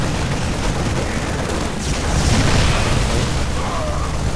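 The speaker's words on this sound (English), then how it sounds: "after we siege those tanks right about now" Siege tanks in StarCraft fire on Marines, a dense wash of low booms and bursts blending into steady battle noise throughout, loud and continuous.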